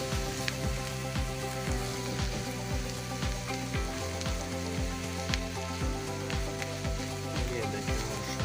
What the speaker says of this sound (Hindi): ये अब हम आलू डाल रहे हैं जो मैश करके रखे हुए थे। इसको सही तरीके से हम मिक्स कर लेंगे